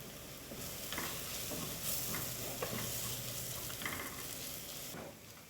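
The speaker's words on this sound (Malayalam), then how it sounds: "ഇത്ര കൂടി ചേർത്ത് നന്നായിട്ടൊന്ന് വഴറ്റിയെടുക്കാം" Spice powders sautéing in a pan for Kerala-style chicken curry, a steady close sizzle with repeated stirring scrapes and small clicks, fairly loud throughout with no voices.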